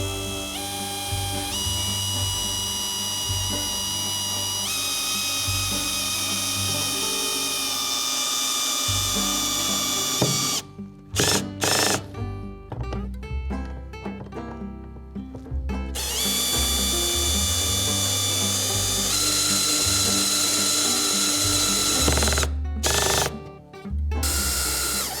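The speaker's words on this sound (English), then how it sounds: "I'm going to put the drill on low speed and go nice and slowly" A power drill driving screws at low speed whirs in slow, sustained runs while installing a Hobie Sidekick Ama kit, pausing twice and starting again, the motor loud and close with a rising and falling pitch.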